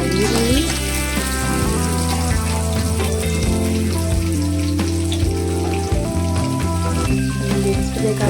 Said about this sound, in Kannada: ನಂತರ ಮೆಣಸಿನಕಾಯಿ ಹಾಕಿ ಫ್ರೈ ಮಾಡಿ